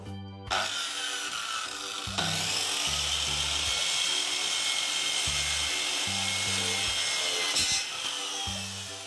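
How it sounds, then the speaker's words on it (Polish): A saw cuts through a sheet of plywood in a long, steady, rasping stroke that runs nearly the whole time, loud and close, with rhythmic background music underneath. "Zacznijmy od przycięcia sklejki pod wymiar naszego spodeczka."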